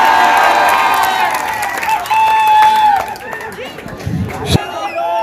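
A crowd at an outdoor political rally claps and cheers, the applause strongest at the start and fading under voices, with chatter, whistles and shouts mixed throughout.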